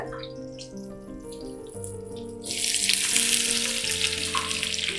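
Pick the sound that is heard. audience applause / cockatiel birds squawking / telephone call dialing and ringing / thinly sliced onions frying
thinly sliced onions frying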